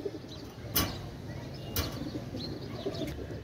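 Pigeons at a pigeon sale, with faint low cooing beneath a soft ambient hum and a few sharp bursts that may be flapping wings, all at moderate distance.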